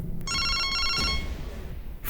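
A telephone rings nearby with a bright, electronic tone that starts sharply, holds for roughly three-quarters of a second, and fades out with faint background noise.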